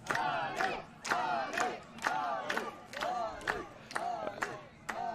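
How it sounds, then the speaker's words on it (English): Spectators at a Masters 35+ USA vs. Israel soccer match clap and cheer as a substitute comes on. Rhythmic bursts of crowd noise and chanting repeat roughly every half second, steady and fairly distant. "applauding his sub onto the field"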